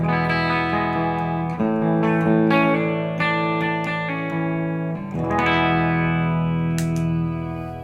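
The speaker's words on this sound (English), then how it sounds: "Now this is a reverb, and it's a very lush, shimmery reverb." Clean electric guitar chords ring out through a lush, shimmering reverb pedal, each strum blooming into a long, glassy wash.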